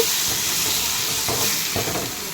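Thokku, a spicy relish, frying in a pan, giving a steady broadband sizzle and hiss with faint stirring scrapes underneath, close and continuous with no one talking.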